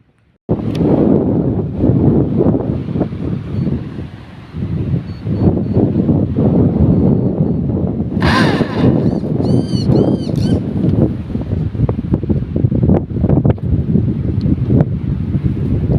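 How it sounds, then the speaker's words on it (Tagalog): Strong wind blows across a river, buffeting the microphone with steady loud gusting noise and a whoosh of choppy water throughout, with a brief high chirp partway through. "At ngayon guys ay maalon at mahangin na naman"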